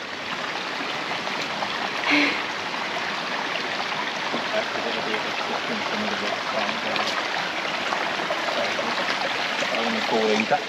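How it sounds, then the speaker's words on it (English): A small waterfall and stream flow steadily throughout on an autumn hike in the Lake District, a continuous close rushing wash with brief louder splashes and a few faint voices in the background. "The first little waterfall."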